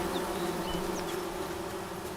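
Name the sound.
bees buzzing after a hive is whacked, from video game Among Trees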